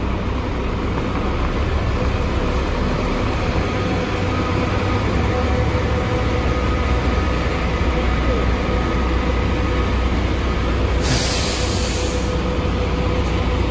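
Expresso Itamarati coach 6010 pulling out of a bus station, a continuous low diesel engine rumble with surrounding traffic noise and a brief burst of high air hiss partway through.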